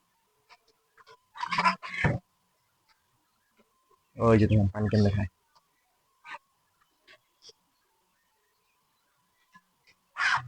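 Ducks and chickens on a poultry farm give a few loud, harmonic bursts of calling with scattered short chirps in between, while a person speaks nearby.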